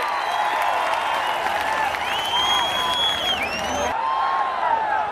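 A crowd at a Janasena and Telugu Desam political rally in Tadepalligudem claps in a sustained, distant-sounding roar, with whistle-like tones and faint voices over it.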